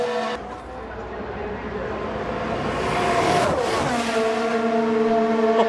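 A Formula 1 car sweeps past at high speed, its high engine whine rising as it nears, then dropping in pitch as it passes close by and pulls away.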